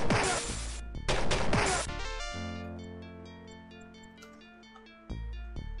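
A barbarian in the Might & Magic World of Xeen game smashes a chest, giving two loud crashing blows one after another. Synth music tones ring out after them, and a low hit lands near the end.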